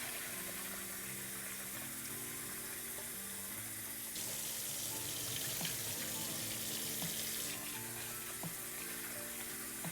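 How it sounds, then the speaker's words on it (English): Water runs steadily from a kitchen tap while dried chiles are rinsed and agitated, a constant close rushing splash that swells louder midway, with no talking. "Agitate it, move it around, rinse it off."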